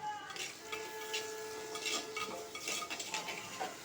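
Okra tamarind curry being stirred in a pot in a village-style kitchen, with soft, repeated scraping and light clinks of the spoon against the pot over a faint bubbling sizzle, all quiet and close.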